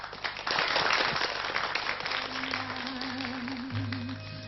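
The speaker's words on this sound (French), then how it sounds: "Joséphine Baker, que je vous demande d'applaudir, mesdames, messieurs" Audience applause rises quickly and holds steady, moderately loud, with a faint tone and some background sound running underneath.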